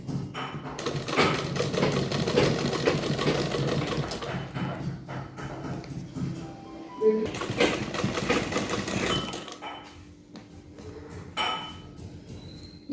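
A sewing machine runs a straight seam on a blouse, its busy mechanical whir going in bursts with short pauses and clinks, under someone talking throughout.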